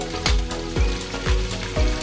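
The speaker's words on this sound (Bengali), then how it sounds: "ফুলকপিটা একটু দেখে নিই হয়ে গিয়েছে ভাজা হয়ে গেছে" Cauliflower pieces frying in oil, a dense steady crackling sizzle broken by four evenly spaced low thumps, close and fairly loud.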